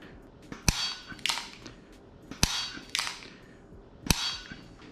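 Quick pistol shots during marksmanship practice: three sharp, loud cracks about two seconds apart, each trailed by a brighter clattering echo, with no talking.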